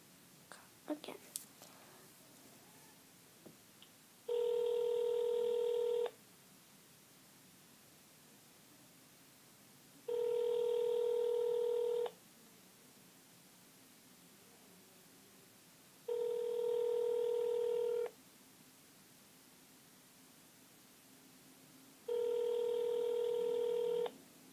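An outgoing telephone call rings out with four evenly spaced electronic tone bursts, each lasting about two seconds and separated by quiet gaps of several seconds, clear and steady over faint background hiss.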